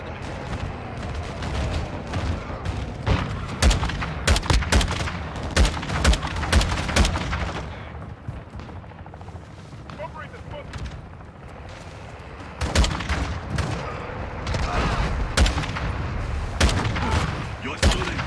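Battlefield gunfire in Call of Duty: Modern Warfare II, with sharp rifle shots, heavy booms and rapid bursts coming in waves, a brief quieter lull midway, and voices talking over the shooting.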